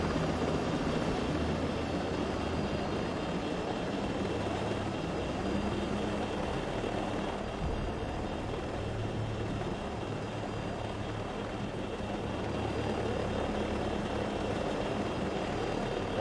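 A helicopter flies in Ghost Recon Breakpoint, giving a constant, close rotor and engine drone that stays loud and steady throughout, with no talk.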